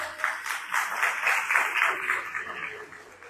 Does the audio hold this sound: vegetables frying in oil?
no